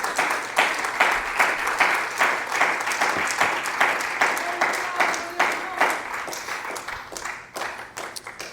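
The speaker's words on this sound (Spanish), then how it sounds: "¿Cuánto le dan un fuerte aplauso al Señor Jesús?" A church congregation claps loudly and steadily, many hands in a fast, even rhythm that fills the room from start to finish, with voices faintly mixed in beneath the applause.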